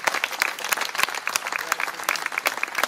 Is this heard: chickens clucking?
no